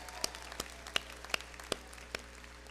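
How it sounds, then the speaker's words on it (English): Scattered clapping from a graduation audience at a law school hooding ceremony, a few distinct claps ringing out in a large room, faint and sparse rather than a full ovation. "Let's give a round of applause for the most resilient class I have ever seen."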